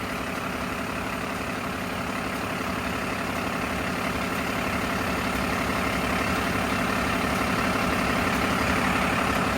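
A lorry engine idles with its power take-off engaged, a steady, dense mechanical drone with a constant hum and whine, close and unchanging throughout, with no talk.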